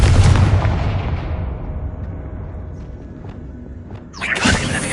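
A Confringo fire spell in Hogwarts Legacy bursts with a loud blast at the start, then rumbles and fades over several seconds before a second crackling impact flares up near the end.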